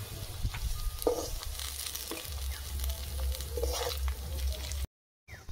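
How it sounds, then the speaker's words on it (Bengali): Shrimp-head and lentil fritters frying in oil, a continuous close sizzle with a few stirring clinks and scrapes, alone, then briefly cut to silence near the end. "একইভাবে সব বড়া আমি ভেজে নেব।"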